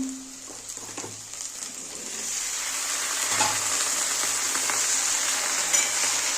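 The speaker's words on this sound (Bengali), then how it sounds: "এবার আমি ভেন্ডিগুলো ভেজে নেব" Okra frying in oil in a pan with potatoes for a mustard okra-potato dish gives a steady close sizzle that grows louder and fuller, with a brief clink at the start.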